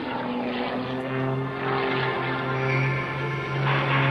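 A Sean Tucker aerobatic propeller airplane performs maneuvers at the 2003 Dayton airshow, its engine droning steadily from a distance as the pitch swells and fades while it accelerates.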